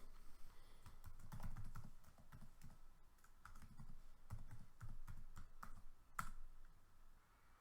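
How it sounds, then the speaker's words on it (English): Computer keyboard keys clatter as a password is typed, a quick close series of clicks in short bursts with small pauses, fairly quiet and with no talking. "just put in your password and log in,"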